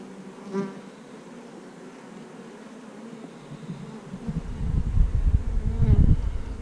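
Honeybees buzz in a low, rising drone around a queen during a hive inspection, swelling louder and closer toward the end.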